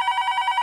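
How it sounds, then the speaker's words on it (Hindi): A telephone rings steadily in a short indoor burst, its bright trilling bell pulsing about seven times in under a second, loud and alone with no voices. "अभी किसका फोन है?"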